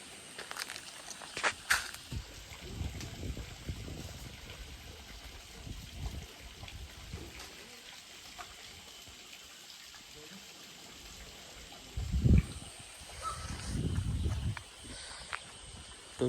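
Water flows steadily near the Dharan Mata site at Taranga, a soft continuous trickle and rush in the background while people talk and footsteps pass.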